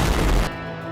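Artillery fires in the TDX tower defense game, a dense, loud burst of blast noise for about half a second that cuts off into a lingering hum.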